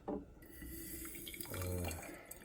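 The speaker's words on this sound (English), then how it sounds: "we will pour the water here inside that" Water pours steadily into the reservoir of a Krups IL Primo 4-cup espresso maker, a close, continuous trickling splash that shifts in pitch as the level rises.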